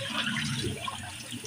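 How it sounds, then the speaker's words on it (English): Cold tap water running over a potato being rinsed by hand, a soft close splashing trickle that lasts only a moment. "I'm just rinsing it off again."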